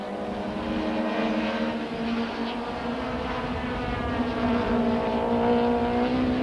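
Mid-1990s Super Touring cars race down the old pit straight at Kyalami, a steady droning engine note with a rising pitch held for several seconds, moderately loud and without talk.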